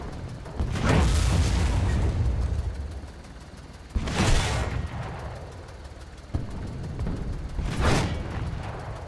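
Three heavy tank cannon shots in War Thunder gameplay, each a loud booming blast followed by a rumbling decay, spaced a few seconds apart with no talking between them.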